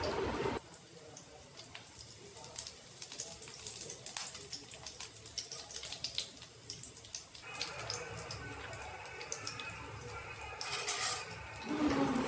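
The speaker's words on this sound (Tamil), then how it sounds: "கருவேப்பிலை வந்து நல்லா பொரிய ஆரம்பிச்சிருச்சு." Garlic and curry leaves fry in hot oil with a soft, steady sizzle and scattered small pops and crackles, fairly quiet and close, with a brief louder burst near the end.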